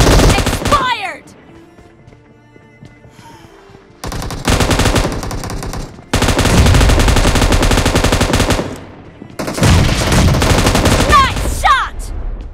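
Repeated bursts of rapid automatic gunfire in the PUBG video game, loud and close, broken by brief quieter gaps with faint game sounds.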